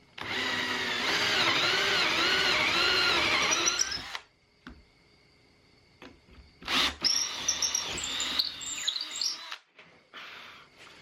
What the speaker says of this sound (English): I'm just going to drill in through here with a 3/8 inch bit.